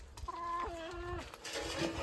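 A hen lets out a drawn-out cluck close by, followed by softer clucking and rustling in the background.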